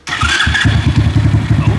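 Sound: engine started and idling with a homemade muffler

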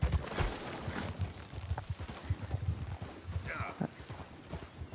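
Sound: horse hooves clip-clop, Red Dead Redemption 2 video game

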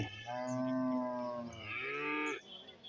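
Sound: calves mooing, calling to drink milk

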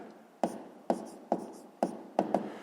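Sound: writing math solution by hand

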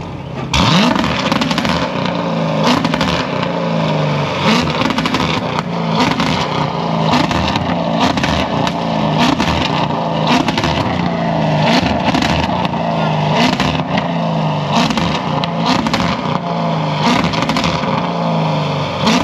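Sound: C7 Corvette engine revving on two-step launch control

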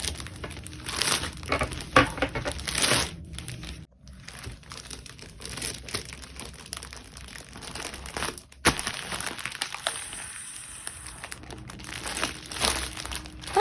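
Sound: rustling of clear plastic bag

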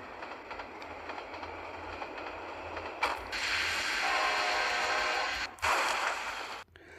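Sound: train running in video game Train Ramp Jumping

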